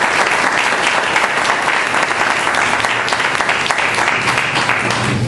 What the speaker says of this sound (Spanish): Démosle ese fuerte aplauso de bienvenida.